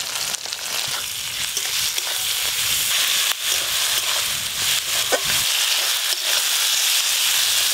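A ground paste of ginger, green chili and dried chili with turmeric powder and salt fries in a pan for a fish curry, giving a steady loud sizzle with occasional stirring scrapes and no speech.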